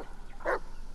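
A single short bark from a dog in the Blair Witch video game, mid-level and brief against a quiet background.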